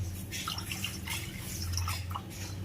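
Water poured into a wok before making semolina sandwiches gives a steady close splashing and trickling with drip-like detail, continuous and moderately loud with no talk.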